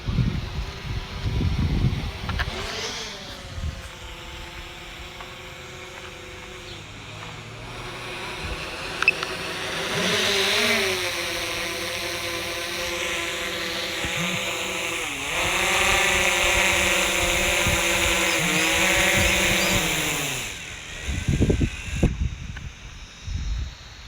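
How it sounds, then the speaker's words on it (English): A drone's high, steady buzzing whine rises and shifts in pitch as it hovers and descends to land in the desert, then cuts out near the end, leaving brief rustling. "It's time to bring down the drone."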